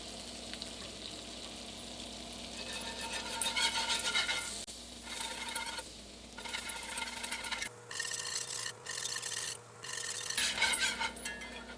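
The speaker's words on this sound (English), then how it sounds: "Now I'm going to whisk in the flour." Whisk scraping through flour and coconut spread in a pan, a continuous raspy rubbing and light sizzle with brief pauses, fairly close and alone.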